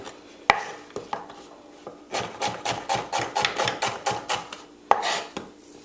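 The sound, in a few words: knife slicing onion into half rings on a board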